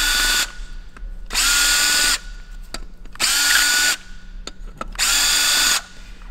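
Power tool unscrewing a cast bridge piece on a Lamborghini V10 engine during a teardown, four loud close bursts of whirring drill noise about a second each with short gaps and small clanks between.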